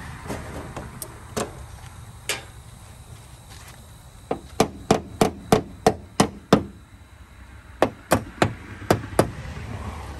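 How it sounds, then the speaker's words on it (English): On a 1985 Volkswagen Vanagon Westfalia restoration, a hammer taps a panel into place: scattered knocks at first, then a quick regular series of sharp, close strikes, a pause, and a few more. "Grab a hammer there."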